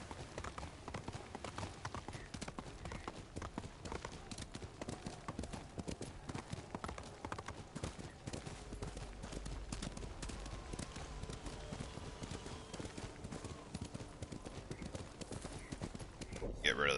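Horse hooves clip-clopping in a steady galloping rhythm in Ghost of Tsushima, faint and continuous, with game voices over them.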